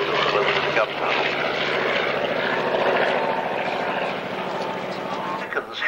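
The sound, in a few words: propeller warbird aircraft flying at an airshow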